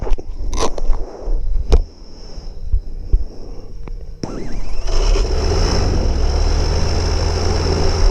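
A microlight aircraft's small engine sputters and catches after a few clicks and knocks, then settles into a steady, buzzing idle held at a low rev.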